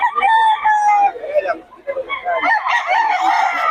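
A White Leghorn rooster crows loudly nearby with a long, drawn-out call, followed by a short pause and then people talking over more clucking and crowing.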